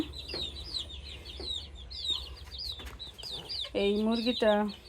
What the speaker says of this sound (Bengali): আমার এই মুরগিটা